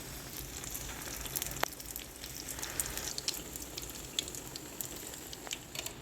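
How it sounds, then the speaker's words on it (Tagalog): Turon, saba banana wrapped in lumpia wrapper, frying in hot oil, giving a steady soft crackling sizzle with scattered small pops throughout, fairly quiet and close, with no voices. "Sunod naman ay ipiprito na natin ito."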